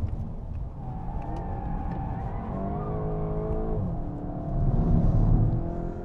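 A hot hatch car's engine drones loudly on a race track, steady revs rising and falling through gear changes, with a brief tire squeal and a swelling roar near the end.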